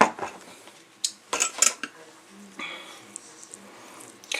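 Spices being mixed together in a dish with a utensil: a few sharp clinks and scrapes against the bowl, scattered and close, between quiet pauses.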